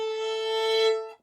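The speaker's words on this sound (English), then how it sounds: "You play a chord or a double stop, right? Double stop, two sounds at the same time" A violin double stop, two notes bowed together as one sustained, clear chord, played alone and close, swelling slightly before fading out.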